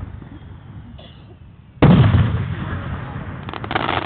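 A single loud, deep firework boom in Oregon bursts out partway through, followed by a rumbling decay and a few fainter crackles, after a quieter stretch of background noise.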